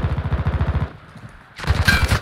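Rapid automatic gunfire rattles in fast, even bursts during a hardpoint match in the shooter Modern Warfare II. A short lull follows, then louder, brighter shots and impacts burst in close.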